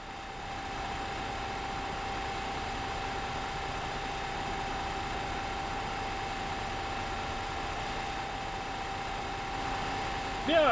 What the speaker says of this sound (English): The engine sounds amazing.